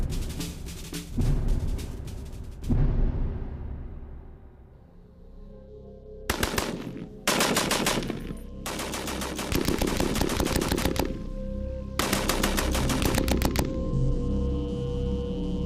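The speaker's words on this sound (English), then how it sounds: "this marksman is going to use it to strafe a piece of Messerschmitt 109" Browning machine gun from a Spitfire firing at a piece of Messerschmitt 109 aluminum wing skin: loud, close bursts of rapid automatic fire, a pair of early bursts then several long sustained bursts separated by short pauses.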